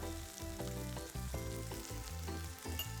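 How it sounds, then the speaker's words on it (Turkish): Onion frying with salt in a pan, a continuous soft sizzle with faint stirring scrapes, steady and quiet with no voices. "Tuzla birlikte soğanınızı kavurursanız soğan suyunu salgılayacaktır ve daha hızlı pişecektir."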